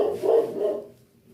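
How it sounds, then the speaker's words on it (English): A dog barks once or twice somewhere nearby, a short, mid-pitched bark that quickly fades to quiet. "Can you hear the dog?"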